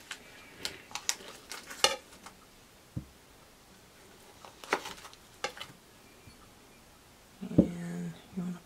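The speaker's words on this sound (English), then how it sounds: "So I need to take one stick of butter and then put it into here." A stick of butter being pressed and packed into a butter bell crock, heard as scattered close soft taps, scrapes and clicks with an irregular rhythm and a louder knock near the end, fairly quiet with some brief speech-like sounds.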